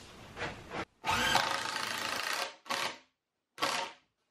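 A power drill drives screws into the end of an 8-foot 2x4 board in a workshop, a long whirring run followed by two short bursts, close and loud with no talk.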